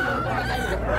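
A short burst of chicken clucking and calling at a weekly poultry market in Saudi Arabia, where chickens and ducks are sold, heard up close and fairly loud.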